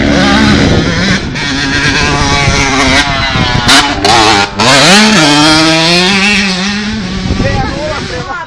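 Motocross motorcycle engines rev loudly and close at a Lobor track, rising and falling in sharp throttle sweeps with a buzzing whine.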